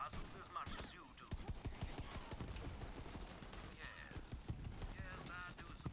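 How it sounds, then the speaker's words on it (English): Dense rapid explosions and gunfire from the video game Borderlands 3 crackle and pop continuously, with bursts of weapon fire and blasts layered throughout, fairly faint overall. "so many explosions!"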